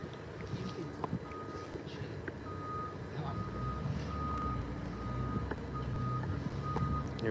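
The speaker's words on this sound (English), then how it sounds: "This guy just pulled up in his truck." A truck's reversing alarm beeps at a steady, evenly spaced rhythm, moderately close over low outdoor rumble and a faint background murmur.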